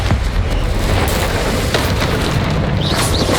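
Confringo blasting-spell explosions in Hogwarts Legacy, a loud, dense, continuous rumble of blasts and fiery bursts with no clear pauses.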